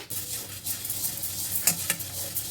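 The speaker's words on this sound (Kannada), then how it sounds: "ಅದಕ್ಕೆ ನಾನು ಹುಣಸೆಹಣ್ಣು ಹಾಕಿ ಹುರ್ಕೊಂಡು ಬಿಡ್ತೀನಿ" Lentils dry roasting with tamarind in a pan, a close, soft sizzling rustle with a few scraping stirs and light metallic clinks partway through.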